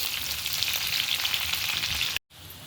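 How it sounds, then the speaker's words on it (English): Onions fry together with ground beef in a pan, giving a steady, close sizzle that runs unbroken until an abrupt cut, followed by a quieter fizz. "we can now go ahead and even add our onions. And just leave those for a few minutes to fry with the meat"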